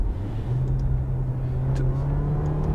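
An Alfa Romeo Tonale 280 hp plug-in hybrid car engine idles with a steady low hum and faint rumble, constant throughout, with a few light clicks above it.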